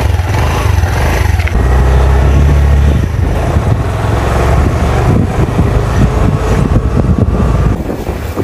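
A motorcycle rides toward the sea in coastal Vietnam, its engine a loud, close, steady drone with heavy wind buffeting the microphone throughout.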